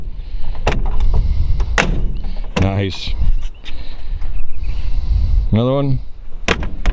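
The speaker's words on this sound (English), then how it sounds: "Let's shut these doors once and show you though." Doors of a 1932 Ford Model B four-door sedan slam shut several times, sharp thuds spread across the stretch amid steady background noise, with someone talking between the closings.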